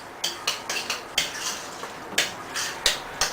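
A spoon works homemade guacamole of avocado in a bowl, tapping and scraping against the sides in an irregular run of sharp clinks, close and clear, with no talking.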